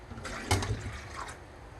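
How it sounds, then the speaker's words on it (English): Water poured into a pickling jar of apple cider vinegar for pickled eggs: a faint, brief splash and trickle of liquid that quickly fades into a quiet room. "we got to add the water"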